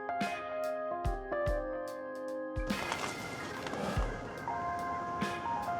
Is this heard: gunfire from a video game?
no